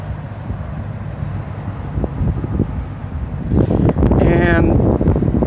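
Wind blowing across an open spot in Wichita, Kansas, during the August 2017 solar eclipse: steady low microphone buffeting that grows louder and rougher toward the end, with a faint whistling tone near the close.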